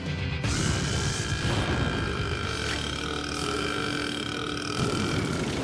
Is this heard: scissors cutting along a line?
no